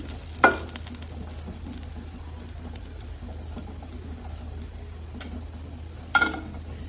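Vanjeera fish shallow-fries in a little oil, giving a soft continuous sizzle close by with two brief sharp clatters near the start and end.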